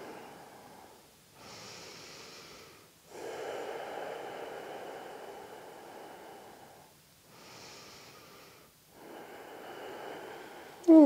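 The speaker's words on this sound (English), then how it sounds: "Two more last breaths here." Slow, deep breathing during a restorative yoga session, with long breath sounds swelling and fading in a steady rhythm, close and fairly soft, separated by quiet pauses.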